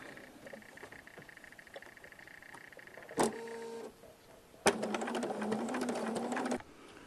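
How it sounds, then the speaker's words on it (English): A sewing machine stitches curved quilt seams: a short whirring run of stitching, a pause, then a longer steady mechanical buzz of rapid stitches, close and fairly quiet, ending abruptly. "I'm going to go ahead and stitch this"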